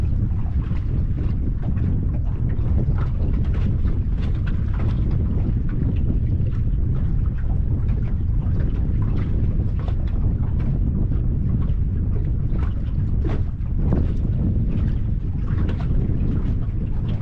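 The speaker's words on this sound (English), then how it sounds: "So it's blowing a gale." A strong gale blows across a fishing boat out on the water, roaring and buffeting the microphone continuously as a loud, unbroken rush with small gusty surges.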